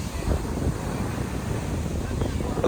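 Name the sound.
sea waves at Dwarka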